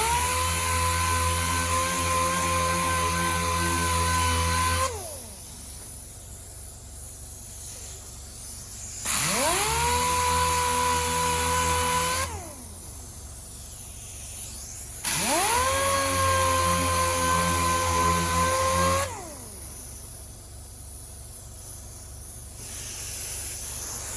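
A power polisher buffs out dust and 1500 grit scratches on a painted panel, running in three long loud whining bursts with quieter gaps of soft hiss between, no talking.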